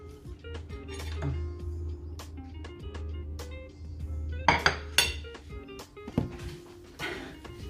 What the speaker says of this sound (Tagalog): umpisa natin na haluin ang ating pancit canton na super anghang